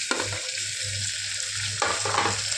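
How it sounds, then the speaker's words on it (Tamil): Chopped tomatoes, three medium ones, fry in a pan for potato and moong dal kuzhambu, giving a steady close sizzle. Scraping stirs come in bursts, with a sharp louder scrape near the end and no voices. "தக்காளி வதங்குற அளவுக்கு இந்த மாதிரி பண்ணிக்கணும்"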